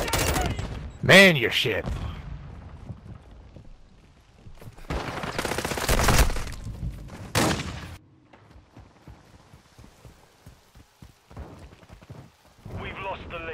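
Video game gunfire from Modern Warfare II multiplayer: loud, dense bursts of automatic fire and sharp shots in clusters, with someone shouting and talking over and between the bursts.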